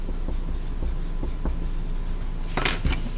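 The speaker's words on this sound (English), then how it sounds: "This might be a good time for me to write my name." Oil pastel scratching across paper while a name is written, soft rhythmic strokes close to the microphone with a brighter scrape near the end.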